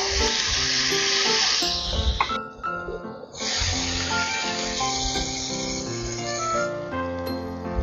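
Green chilli, onion and ginger paste sizzling in hot butter in a pan for Bengali katla curry: loud, steady frying hiss, close up, with a brief drop midway and soft background music.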